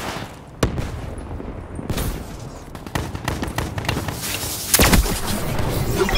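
Gunfire and a frag grenade explosion in a multiplayer shooter game: scattered sharp shots early, then heavier bursts of rapid fire building toward a loud blast, all at close range.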